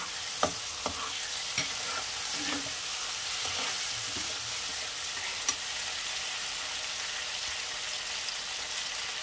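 Chopped tomatoes fry in a pan for a snakehead fish curry, a steady soft sizzle with a few scattered pops and stirring scrapes, heard alone without talk.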